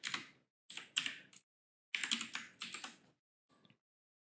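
Close, crisp bursts of typing on a computer keyboard come in quick clusters separated by short pauses, ending with a few soft taps.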